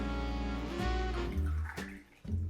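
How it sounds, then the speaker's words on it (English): Filtered pure water pours from a filter system into a container, a steady close gush that dips briefly near the end before resuming. "I'm going to fill this up with the pure water inside of the container"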